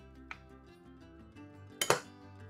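A raw egg cracks against a bowl and drops in, one sharp clink followed by a brief splat in a quiet kitchen, preceded by a faint tap.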